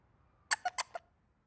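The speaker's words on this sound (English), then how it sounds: "squeaky dog toy" A squeaky dog toy gives four quick, high, bright squeaks in a row, crisp and close against near silence.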